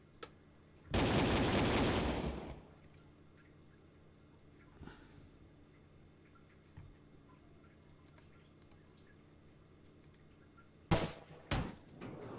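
Artillery and gunfire in the Panzer Corps 2 war game: one loud sustained burst of firing near the start, then quiet with faint clicks, and a few sharp shots near the end.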